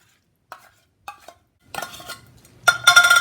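A spoon scrapes and clinks against a bowl while tuna in oil and egg are mixed together, starting with a few soft taps and then moving into steadier close stirring.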